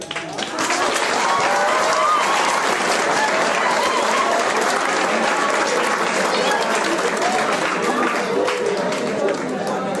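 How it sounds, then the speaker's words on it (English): Audience clapping at a national literary festival, a full, even burst of applause from a large crowd that holds steady for ten seconds. "You all ended up clapping instead of grabbing."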